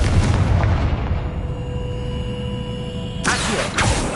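A Confringo explosion spell cast in a video game, heard as a loud boom at the start that fades into a ringing tail, then another burst near the end.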